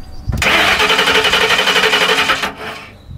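A Lincoln Town Car limousine with a seized starter motor cranks loudly and rhythmically close by for about two seconds, then cuts off abruptly and leaves a faint hum.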